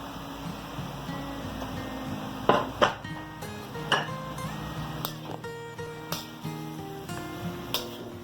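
Saltfish with carrot, garlic and onion being stirred in a pan with greens, giving scraping clinks of a utensil against metal at irregular intervals over a soft continuous background.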